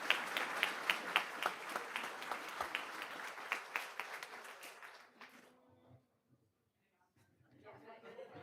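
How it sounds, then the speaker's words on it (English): School board meeting audience giving a round of applause for high school students, distinct rhythmic claps for about five seconds that fade out, leaving near silence with faint voices. "let's get a big round of applause for the high school folks."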